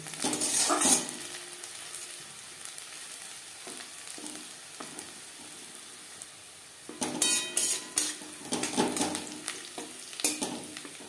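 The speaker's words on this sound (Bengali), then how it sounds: "পেঁয়াজ অবশ্যই লালচে করে ভেজে নিতে হবে।" Onions fry in a pan for a fish curry with peas and tomato, a soft sizzle broken by bursts of spatula scraping and stirring against the pan, close and alone.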